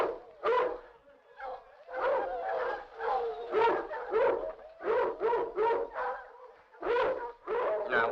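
Several dogs bark in a rapid series of sharp, mid-distance yaps and bays, with brief gaps between bursts and no talking over them.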